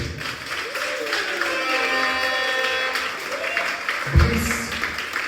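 A wedding reception crowd applauds as the bride and groom begin their first dance, a steady wash of clapping heard over sustained music with a held melodic line, with a low thump partway through.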